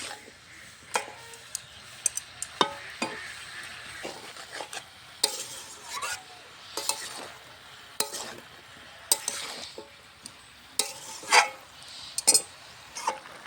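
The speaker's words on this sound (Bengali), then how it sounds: "এরকম করে কষিয়ে কষিয়ে রান্না করবো" Mixed vegetables are stir-fried uncovered in a pan. A spoon scrapes and clinks against it in irregular bursts over a soft, faint sizzle, with no voices.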